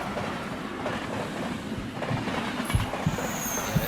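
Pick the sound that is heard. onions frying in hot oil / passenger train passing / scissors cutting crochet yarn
passenger train passing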